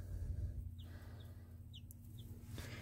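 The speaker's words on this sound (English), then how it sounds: "I thought I'd just show off this little chick. Just recently hatched a couple days ago." A newly hatched baby chick, a couple of days old, gives a few faint, high, brief peeps over a steady low background hum, with no talking.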